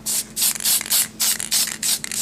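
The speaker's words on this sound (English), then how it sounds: "I'm going to take the PME Luster Pearl Spray. It's just like almost like an aerosol can" A PME Luster Pearl aerosol can gets sprayed onto a sugar flower in a rapid series of short hissing bursts, about eight quick puffs with brief gaps between them, close and fairly loud.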